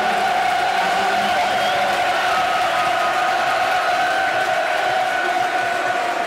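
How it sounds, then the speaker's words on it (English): Football crowd at a Millwall home match against Blackburn Rovers, a steady sustained roar of many voices cheering through the whole stretch, loud and continuous with no single voice standing out. "Crowd loving the occasion"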